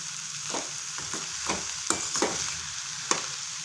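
Spinach poriyal is stirred in a hot pan, a continuous soft sizzle broken by repeated scraping strokes of the spoon at an irregular rhythm, close and fairly quiet, with no talking.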